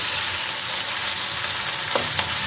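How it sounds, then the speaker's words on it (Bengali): Potatoes fry without onion in hot oil with a steady, close sizzle, and a couple of light stirring clinks come near the end. "এমনি জাস্ট আলু ভাজবো, পেঁয়াজ ছাড়া"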